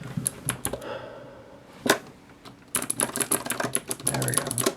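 Typing on an OLKB Planck mechanical keyboard gives rapid, close, clacky keystrokes in uneven bursts, with a short pause and a single sharp hit before the typing resumes.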